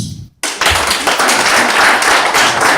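Following a brief quiet gap, a comedy-club crowd at a stand-up show in Thunder Bay bursts into loud, close clapping that builds quickly and holds as a thick, sustained wash.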